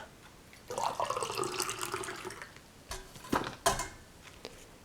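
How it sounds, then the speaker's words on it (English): Water pours steadily for about two seconds, a close, splashy trickle like filling a cup, followed by a few sharp clinks and knocks of the vessel being handled. "let me drink some water"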